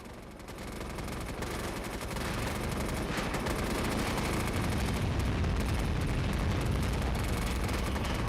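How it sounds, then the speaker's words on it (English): Dense, sustained volley of explosions and rumbling blasts from a cluster bomb airstrike in the online shooter MAG, booming continuously and building in loudness across the whole stretch with no talk over it. "He's going to call in a cluster bomb to clear the enemy off this wall"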